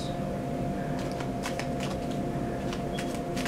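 Tarot cards are shuffled in repeated quick riffling bursts over a steady hum of room noise, with no talking.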